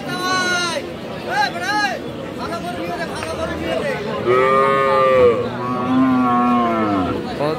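Cattle at a rural livestock market moo in long, loud, drawn-out calls, with a second lower moo later, amid the chatter of people talking nearby.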